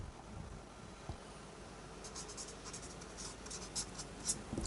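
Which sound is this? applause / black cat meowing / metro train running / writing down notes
writing down notes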